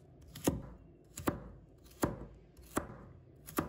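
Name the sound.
knife dicing vegetables into 1 cm cubes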